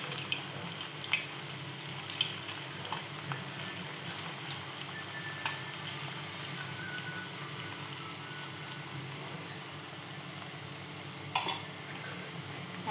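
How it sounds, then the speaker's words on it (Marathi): Puris for a fasting recipe fry in hot oil with a steady, even sizzle and crackle, with a few brief louder spits and clinks over the close bubbling hiss. "त्यांना मस्तपैकी आपण फ्राय करून घेणार आहोत."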